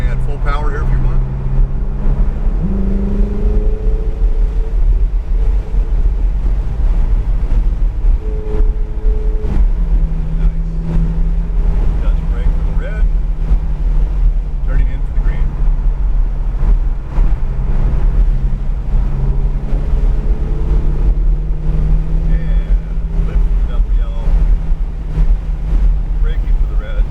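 Ferrari 488 GTB engine at full throttle on Sonoma Raceway, a steady loud droning roar with rising and shifting engine tones, heavy wind buffeting and a voice talking over it throughout.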